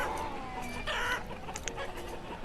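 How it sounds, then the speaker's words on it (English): A lone chicken in the farming game Banished clucks in short, moderately close bursts over a soft ambient background, with a few sharper higher chirps near the end. "Just one solitary chicken, living a life of luxury."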